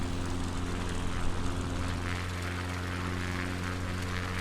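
A light propeller aircraft lands on a windy coastal approach, its engine a steady, continuous drone with strong low harmonic hum and broadband wind rush throughout.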